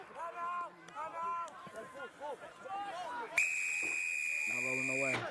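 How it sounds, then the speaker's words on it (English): A referee's whistle at a Brown versus Dartmouth college rugby match gives one long, loud, steady shrill blast cutting in after stretches of crowd and commentary chatter, with a lower horn-like tone joining near the end. "Loud blast of the whistle here."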